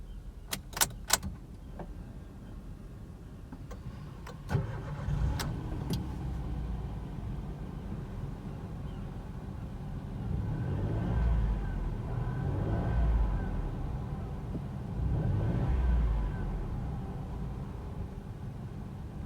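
A Toyota Aygo car's small engine turns over with a short crank after a faint key jangle, then settles into a steady, low idle rumble heard from close by, with no voices.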